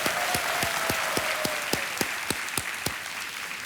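A studio audience on the Kaun Banega Crorepati TV quiz show claps in a steady, rhythmic beat, with sharp, evenly spaced claps at moderate loudness and no talk.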